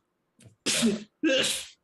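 One person sneezes loudly twice in quick succession after a brief faint intake of breath, with no other sound around them.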